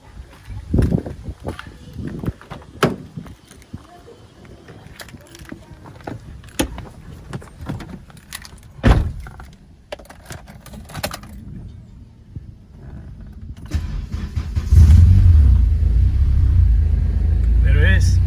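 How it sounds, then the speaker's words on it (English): A 7th-generation Honda Accord fitted with a new Clutch Masters 725 twin-disc clutch is started, settling into a steady low idle rumble near the end, after earlier clunks and movement with a voice talking. "Start the car up."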